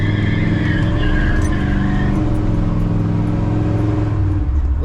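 A Chevrolet squarebody pickup truck engine pulls hard under throttle with a loud, sustained droning roar and tire squeal, close and steady, fading slightly near the end.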